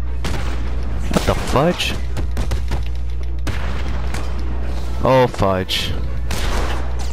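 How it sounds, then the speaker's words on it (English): Gunfire in Batman: Arkham City cracks in a few sharp bursts over a steady low game hum, while a player talks and exclaims close to the microphone. "Something sounds like a gunshot."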